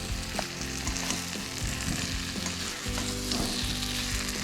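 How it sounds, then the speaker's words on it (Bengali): Boiled potatoes frying with spices and ground pepper for aloo dum, a dense, loud continuous sizzle with stirring scrapes throughout, close up and without speech. "যে সেদ্ধ করা আলুগুলো ছিল সেগুলো এর মধ্যে দিয়ে দিলাম"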